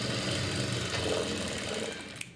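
A sewing machine runs steadily, stitching a shape belt for a garment, its needle mechanism humming and rattling close up without a pause until a couple of brief clicks at the end.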